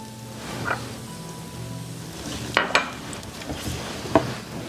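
Coarsely chopped onion and garlic fry in oil with a soft steady sizzle, punctuated by a few sharp utensil clacks against the pan.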